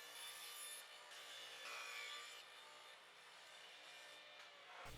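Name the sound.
table saw with crosscut sled cutting wood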